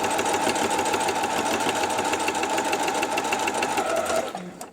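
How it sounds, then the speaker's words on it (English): A sewing machine stitches a quilt block with a 1/4 inch seam allowance, a steady, loud, continuous whirring run that holds for about four seconds before stopping abruptly. "head to the sewing machine, 1/4 inch seam allowance"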